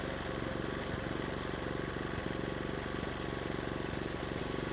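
An Erayak 4500PD dual fuel inverter generator runs steadily under an overload test, giving a constant, moderately loud low engine drone with an even mechanical pulse throughout.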